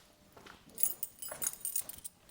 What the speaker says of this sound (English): Got the keys lying here somewhere